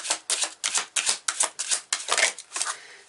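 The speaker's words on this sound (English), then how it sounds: "Gotta figure out how to shuffle again." Tarot cards shuffled by hand produce a quick series of about ten crisp, close riffling bursts in an uneven rhythm, with no talking.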